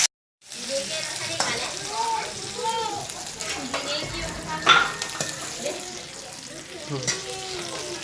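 Cumin and mustard seeds fry in hot oil for potato dal, making a close crackling sizzle with scraping stirs after a brief silent start, while a voice talks intermittently over it.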